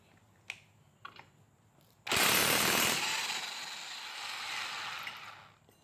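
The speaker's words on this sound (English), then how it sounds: "we're going to take our 17mm and our high torque impact wrench to get this bolt off" A high-torque impact wrench with a 17mm socket rattles loose a bolt on a scooter's pulley and variator assembly, a few short taps followed by a long loud burst of hammering that eases into a steady whir.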